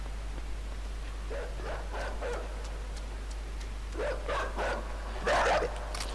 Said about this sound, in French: Dès que le chien a fait waf waf